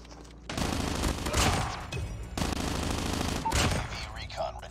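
Rapid automatic gunfire in the mobile shooter game Call of Duty Mobile, during a Domination match, in two dense bursts of loud crackling shots.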